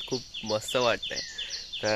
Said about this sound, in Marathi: एकदम पक्ष्यांचा किलबिलाट